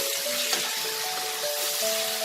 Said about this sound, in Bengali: এই রুই মাছের ডিম ভালো করে ধুয়ে পরিষ্কার করে নিয়ে এবার আমি এটা দিয়ে দেবো।